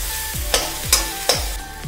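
Ginger garlic paste frying in butter in a pan for pav bhaji, a steady close sizzle with a spoon scraping and stirring in rhythmic strokes roughly every third of a second.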